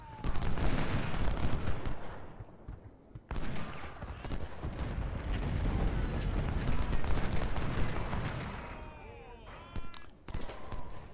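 Massed rifle and cannon fire in the Ultimate General: Civil War battle of Fredericksburg, loud rolling volleys and booms that continue almost without a break and then ease toward the end.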